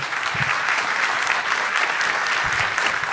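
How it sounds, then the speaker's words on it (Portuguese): An audience at an accountability event applauds in a dense, steady wash of clapping that holds close and loud from start to finish, with no voices over it. "Quero uma salva de palmas a todos"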